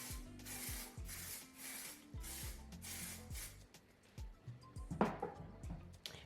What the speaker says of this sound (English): I just lightly spray my hair with the holding spray